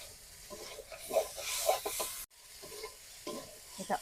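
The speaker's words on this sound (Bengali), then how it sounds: "এটা অনর্গল নেড়ে চেড়ে আমরা সুন্দরভাবে কষিয়ে নিয়েছি" A spoon stirs and scrapes fig curry in a pan. The scrapes and sizzles are faint and come in irregular bursts, with a brief dropout partway through.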